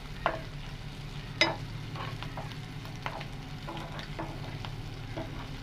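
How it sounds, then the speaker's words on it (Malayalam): Shallots and curry leaves tempering in hot oil, with a steady low sizzle and a few sharp crackles and pops breaking through, plus light stirring scrapes, close by with no talk. "നമുക്ക് അവസാനം നമുക്ക് ചെറിയ ഉള്ളിയും കുറച്ചധികം ചെറിയ ഉള്ളിയും കറിവേപ്പിലയും കൂടി താളിച്ച് ചേർക്കണം"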